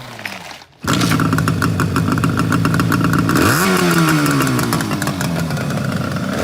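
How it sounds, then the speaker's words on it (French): A Suzuki GT 185 motorcycle is kick-started and catches almost at once, its small two-stroke engine then running loud and close with a rapid, rattly idle and a brief rev that rises and settles. "on va le faire au kick pour prouver que ça démarre super bien"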